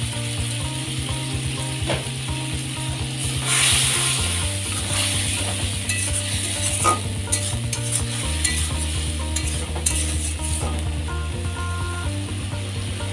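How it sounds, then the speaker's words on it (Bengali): Spice paste fries in mustard oil for an egg and spinach curry, a close, steady sizzle with repeated scraping and clattering stirs. A low mechanical hum runs underneath. "মশলাগুলো আমি যতক্ষণ না তেল ছাড়ে ততক্ষণ আমি কষিয়ে নেব।"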